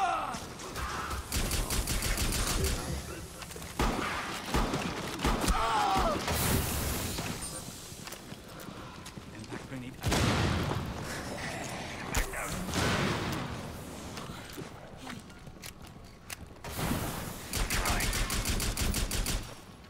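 Enemy gunfire in the co-op shooter game Rainbow Six Extraction, repeated bursts of rapid automatic fire and loud cracks spread across the span, with a voice speaking in places between the volleys.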